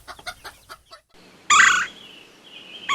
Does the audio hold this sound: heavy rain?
no